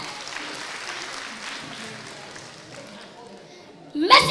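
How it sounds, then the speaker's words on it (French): Crowd at a school event claps in a faint, diffuse burst that gradually thins out, ending in a brief louder clatter at the very end. "let us put our hands together and welcome them on the stage"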